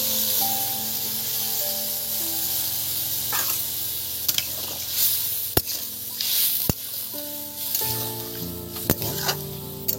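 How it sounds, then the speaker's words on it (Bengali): Water goes into a pan of frying potatoes and pointed gourd, producing a loud hissing sizzle with bursts of spitting steam, plus a few sharp utensil clicks and stirring scrapes; no voices. "জল দিয়ে দিচ্ছি।"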